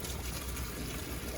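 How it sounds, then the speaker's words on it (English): Hot water is carefully poured off boiled corn from a pot into a sink, a steady close splashing gush with no voices. "dump this water off of the corn"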